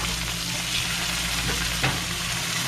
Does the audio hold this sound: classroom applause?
no